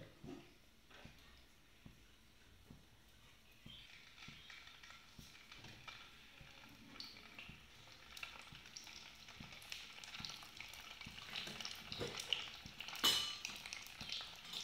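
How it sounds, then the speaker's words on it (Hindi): Eggs shallow frying in a pan give a soft, steady sizzle with faint crackles and scattered light ticks from utensils, growing slightly denser and louder toward the end, with no talk over it. "हम अंडा को तब तक सेलो फ्राई कर लेंगे"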